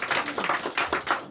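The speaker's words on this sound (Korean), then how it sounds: "박수 올려드리겠습니다." A church congregation at a Sunday morning service claps together in a short burst of about five or six rhythmic, unison claps, close and moderately loud.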